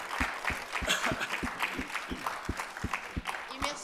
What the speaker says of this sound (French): On applaudit Rémi Cazel.